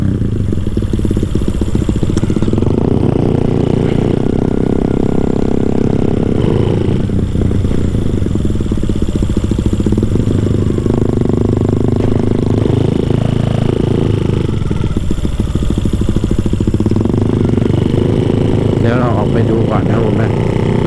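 A Honda Sonic motorcycle fitted with a CB engine runs steadily and loudly throughout, a continuous mid-pitched engine drone with clattering overtones while riding outdoors.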